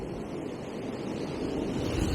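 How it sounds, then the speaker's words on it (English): Ocean waves crash over rocks on a cold, windy coast, a dense, steady roar of surf mixed with wind noise that swells slightly toward the end. "There's a lot of waves crashing over on the rock."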